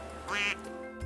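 A single duck gives one clear, nasal quack, close and prominent over a faint steady background, followed by a short low sound.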